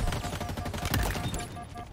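Assault rifle firing in Halo Infinite, a rapid stream of sharp, closely spaced shots in quick rhythm, loud and near with game effects layered in.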